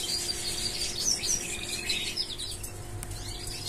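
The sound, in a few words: birds chirping, show birds being trained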